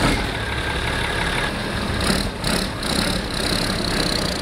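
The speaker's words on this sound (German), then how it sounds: "Im Konvoi fahren die Fischerbrüder zum Feld" Vintage Deutz tractors, including 13006 and 10006 Special models pulling tipper trailers, drive in convoy toward a field, a continuous loud diesel drone with slight swells and dips as they pass close by.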